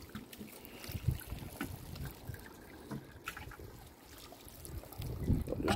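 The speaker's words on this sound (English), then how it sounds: "The water just rolls straight off." Rainwater or hose water runs off sealed concrete roof tiles with a steady trickling, splashing wash, fairly faint and close, with no talk over it.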